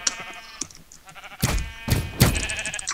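Video game sheep bleating in three loud bursts in close succession in the second half, over layered game sounds and music, with no talking.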